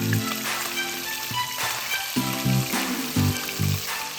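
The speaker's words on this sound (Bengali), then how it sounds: "তাই আমি দুবারে মাছগুলোকে ভেজে নিচ্ছি।" Pieces of chital fish fry in hot oil in a wok, giving a steady close sizzle with a few soft bumps and clatters from the pan.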